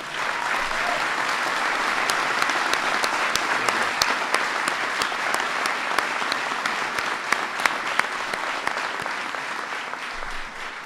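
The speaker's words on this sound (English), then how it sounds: "And so give Chemo a big round of applause." Audience applause at a White House ceremony honoring the Stanley Cup champion Chicago Blackhawks, a sustained crowd clapping with a few sharp individual claps standing out, steady and fairly loud for about ten seconds.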